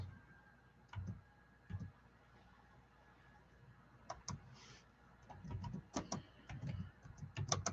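Scattered keyboard clicks come in short uneven bursts, quiet and close, with soft thumps between them and a busier stretch of typing near the end.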